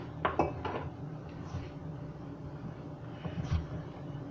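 Butter, flour and baking powder mixed in a bowl for chocolate croissant dough, heard as a few close clinks and scrapes of utensil against the bowl, with quieter rubbing and mixing between them and no talk.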